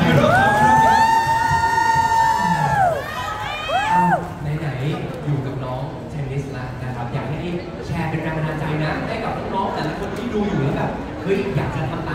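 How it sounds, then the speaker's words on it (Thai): An audience at a Thai event for an Olympic taekwondo gold medalist claps and cheers, with crowd chatter and whoops beneath an opening stretch of loud music. "ขอเสียงปรบมือนิดนึงให้กับฮีโร่"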